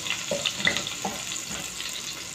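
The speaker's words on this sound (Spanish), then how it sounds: "sofreír un ajito picado, un poquito de pimentón y un poquito de cebolla. Dejamos que se sofríe" Chopped garlic, paprika and onion sautéing in a pan, a soft continuous sizzle with a few faint stirring scrapes, close and without talk.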